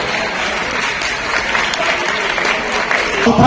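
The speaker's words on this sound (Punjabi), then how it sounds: "ਇੱਕ ਵਾਰ ਜ਼ੋਰਦਾਰ ਤਾੜੀਆਂ ਮਾਰ ਕੇ ਦੱਸ ਦਿਓ ਕਿ ਤੁਸੀਂ ਹਾਜ਼ਰ ਹੋ" A college hall audience at Khalsa College for Women in Amritsar claps loudly and continuously, a dense wash of applause that swells slightly toward the end.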